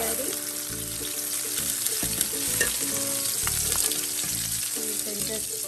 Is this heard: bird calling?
no